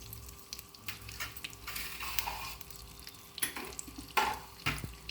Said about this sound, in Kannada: ಒಣಮೆಣಸಿನ್ಕಾಯಿ ನಾಲ್ಕರಿಂದ ಐದು ಮುರಿದು ಹಾಕ್ತಾಯಿದ್ದೀನಿ ಒಗ್ಗರಣೆಗೆ